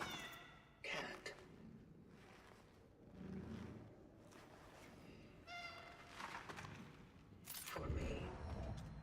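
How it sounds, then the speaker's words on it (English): A cat meows a few times in the video game Cronos: The New Dawn, short mid-loud calls spread across the stretch over a low game ambience. "Hear a meow."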